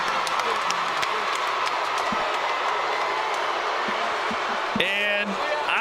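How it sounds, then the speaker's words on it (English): Boxing arena crowd at a Social Gloves fight between AnEsonGib and Tayler Holder, a dense, steady roar of cheering and applause throughout, with a few sharp thuds and a brief whistle-like rise near the end. "The crowd showing their approval and their appreciation."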